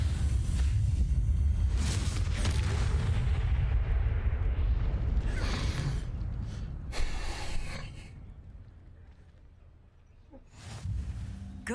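Confringo blast spells go off in Hogwarts Legacy: several loud, booming explosive bursts with crackling tails, spaced a few seconds apart, fading between hits, with a final blast near the end.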